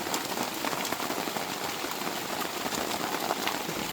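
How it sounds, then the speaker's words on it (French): Steady rain falling outdoors in the Laurentides, a continuous, even hiss of drops on surfaces with no break or change in intensity. "il s'est mis à pleuvoir."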